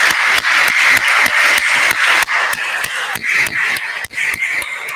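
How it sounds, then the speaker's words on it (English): An audience at an academic STEM conference breaks into a sustained round of applause, dense overlapping claps close and loud throughout with no speech over them. "he deserves a round of applause at the end"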